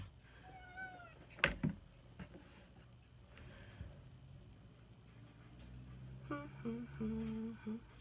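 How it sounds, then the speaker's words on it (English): A kitten meows a few times, short high calls near the start and end, with faint clicks and light background noise indoors. "Hi, kitten."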